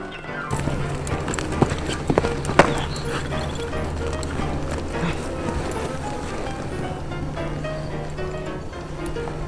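Steady clip-clop of horse hooves at a walking pace over a constant low rumble, with a couple of sharper knocks partway through.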